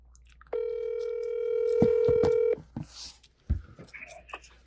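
A telephone keypad rings out a long steady dial tone, then quick dialing beeps and clicks as a number is entered, followed by faint handling noises, close and clear in a quiet room.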